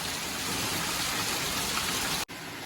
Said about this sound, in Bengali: দেখুন বন্ধুরা কি বিভৎস বৃষ্টি হচ্ছে